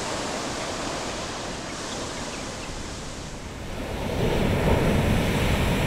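Ocean surf rolls in as a continuous broadband wash, steady and fairly loud, swelling stronger near the end with no voices present.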